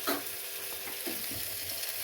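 Pasta tumbles into a pan and gets stirred, producing soft clattering scrapes and a low sizzle in a home kitchen. The sounds are faint and close, with no talking.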